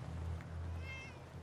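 A cat meows in Fallout 4 during the Far Harbor content: one drawn-out, fairly faint meow over a steady low in-game background hum, with no talk.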